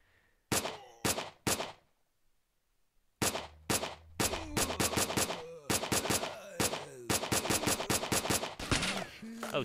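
Bursts of automatic gunfire come at the player in S.T.A.L.K.E.R.: Shadow of Chernobyl, loud close volleys of rapid shots broken by a brief silence, then denser repeated fire to the end.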